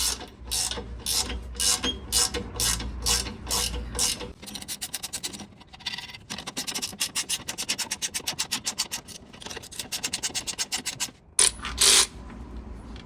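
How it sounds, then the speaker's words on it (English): A cordless ratchet works on an S10 street truck, giving repeated bursts of close, loud mechanical whirring and clicking, with short pauses between the runs. "Ratcheting wrenches will save you some time, but cordless ratchet will save you even more."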